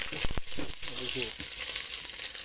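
Curry leaves and green chillies dropped into hot oil for a Chinese-style sauce, with a sharp crackling burst at first that settles into a steady close sizzle and a few stirring sounds.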